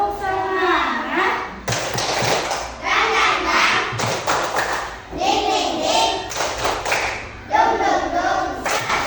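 Classroom of children in Indonesia performing the tepuk semangat clapping chant, bursts of rhythmic hand claps mixed with loud young voices chanting together, repeated in several groups over the stretch.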